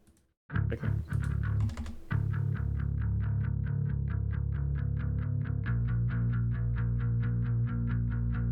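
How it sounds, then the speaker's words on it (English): A heavy bass guitar distorted through an amp plugin plays quick repeated plucked notes, loud and gritty, with a steady rhythmic pulse and no voices. "So the bass sounds like this."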